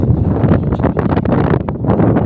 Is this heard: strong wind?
yes